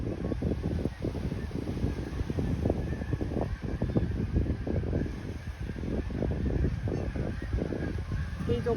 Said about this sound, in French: je vais me faire attaquer par les oies